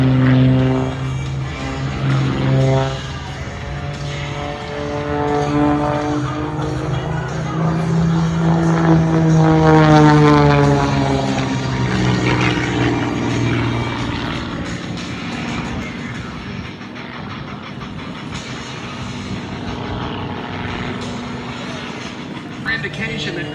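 An aerobatic propeller airplane at the Duluth Airshow drones overhead, its engine pitch bending as it climbs into a vertical rolling figure, while an announcer talks over it throughout.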